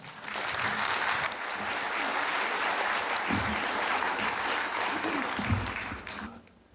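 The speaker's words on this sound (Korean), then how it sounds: "여러분 큰 박수로 환영해 주십시오" Audience at a church-run international corrections academic conference opening ceremony applauds steadily to welcome a pastor to the stage, a dense wash of clapping that fades out at the end, with faint voices underneath.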